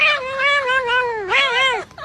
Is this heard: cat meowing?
yes